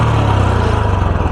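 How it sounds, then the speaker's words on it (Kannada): Royal Enfield Classic 350 motorcycle idling close by, a loud, deep, steady exhaust thump with an even pulsing rhythm. "ಸೌಂಡ್ ಹೆಂಗಿದೆ ಅಂತ ಎಕ್ಸಾಸ್ಟ್ದು"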